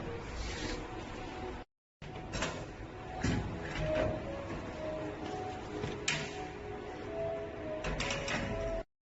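A cake vending machine prints a receipt, giving a steady mechanical whirring and buzzing with soft clicks. It runs for several seconds, stops briefly, then continues without talk.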